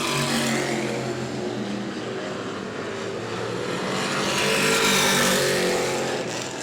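Race cars roaring around the New Smyrna short track during a late-lap battle, a loud continuous engine drone that swells and fades as cars pass, with no talk over it.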